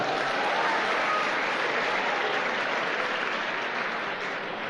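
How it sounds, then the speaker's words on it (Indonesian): A crowd claps steadily, a dense, even wash of applause that holds at the same level from start to finish. "tepuk tangan buat Bapak Ibu"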